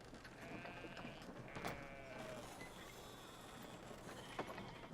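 Sheep bleating in the video game Brothers: A Tale of Two Sons, soft repeated bleats over a low game ambience with faint mechanical clicks, quiet throughout and without speech.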